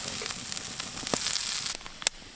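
Food sizzles in a frying pan over a campfire in the woods, giving a steady crackling hiss with a few sharper pops near the end. It is moderately close and heard alone, with no talk.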